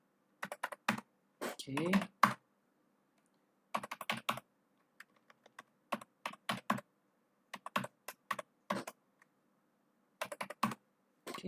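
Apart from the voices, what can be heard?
typing a password on a computer keyboard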